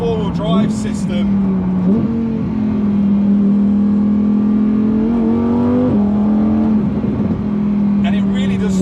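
Lamborghini Aventador S or Huracan Evo with four-wheel drive pulling hard, its engine note climbing and dropping through gear changes in a steady, loud drone heard from inside the cabin.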